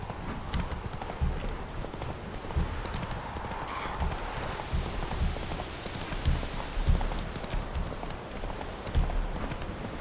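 A horse's hooves clip-clop in a steady galloping rhythm across The Witcher 3's open world, rain pattering on the ground around it, with a faint whinny now and then.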